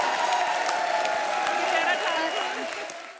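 Studio audience applause at a televised comedy show, a dense, steady wash of clapping and crowd noise that holds for about three seconds and tapers slightly at the end.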